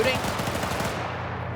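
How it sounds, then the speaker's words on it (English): In a video game, an MT-LB armored vehicle fires its gun in a rapid, loud automatic burst that trails off into a fading rumble. "Is the MTLB now shooting?"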